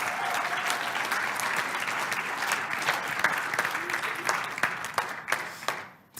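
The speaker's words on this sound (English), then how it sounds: "So I want to hear them applauded for again." A congregation applauds its COVID safety team with a broad, steady wash of many hands that thins into a few scattered claps before fading out near the end.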